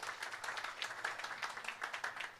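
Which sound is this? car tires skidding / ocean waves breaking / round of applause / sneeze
round of applause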